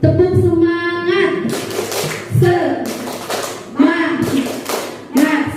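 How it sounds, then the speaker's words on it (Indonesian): A group performing the Indonesian 'tepuk semangat' spirit clap in rhythmic bursts of hand claps at a school or teacher gathering, with voices chanting along between and over the claps. "Tepuk semangat."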